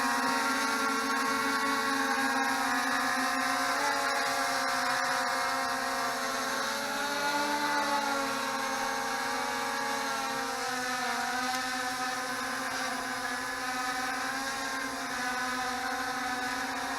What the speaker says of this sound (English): This is a drone that has been underwater for 2 weeks, and it's doing this right now.